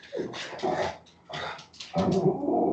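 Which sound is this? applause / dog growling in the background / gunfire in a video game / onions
dog growling in the background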